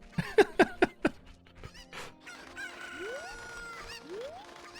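Video game chicken (cucco) from Zelda: Ocarina of Time, a quick run of four or five loud, sharp clucks, then quieter squawks and rising whistling game sounds, with no talking.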